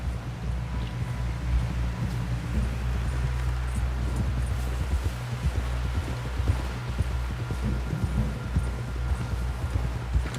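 Horse hooves clip-clop steadily on a trail in the video game Red Dead Redemption 2, a continuous rhythmic gait over a low rumbling ambient bed, with no talk.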